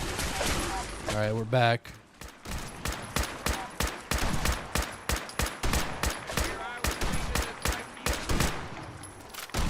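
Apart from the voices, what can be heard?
gunfire from a gun in the video game Fallout 4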